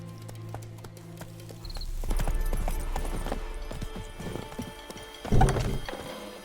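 Roach, the horse in The Witcher 3, walks with rhythmic hoof clip-clops on the ground, close and moderately loud, with a sharper thud near the end and ambient game sounds underneath.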